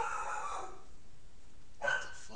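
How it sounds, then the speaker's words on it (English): A pet dog barks in a room during a podcast recording, one bark at the start and another short bark near the end, fairly close and moderately loud with no talk over it. "Okay, please forget my dog."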